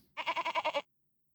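A goat from a grazing herd gives a single clear bleat, a rapid quavering series of about seven pulses in under a second, close and alone, followed by silence.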